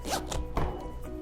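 A zipper is drawn closed on the fabric apron of a Peach carrycot, a brief close rasp with a couple of soft thuds as the material is handled.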